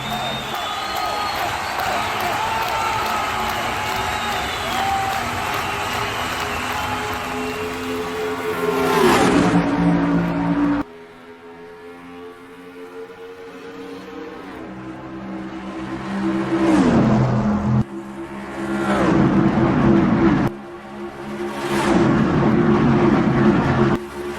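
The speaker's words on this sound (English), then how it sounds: "The green flag is out. We're racing here in Daytona." Stock race cars roar at the green-flag start of the Daytona 500, a dense layered engine drone with several loud passes sweeping by, a crowd beneath and a commentator talking throughout.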